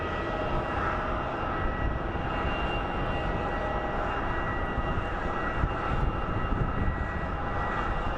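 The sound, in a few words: Mesa Airlines airplane taxiing at airport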